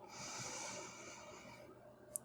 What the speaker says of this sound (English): Breathe in deeply